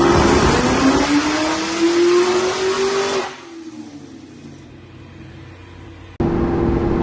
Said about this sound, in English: the Cobra is finally getting a dyno tune today